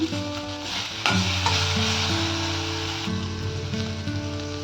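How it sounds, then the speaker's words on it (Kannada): Mustard seeds sizzling in hot oil, a dense close hiss under steady background music, with a few clinks and stirring taps. "ಈಗ ಇದಕ್ಕೆ ಸ್ವಲ್ಪ ಸಾಸಿವೆ ಹಾಕ್ತಾ ಇದ್ದೀನಿ"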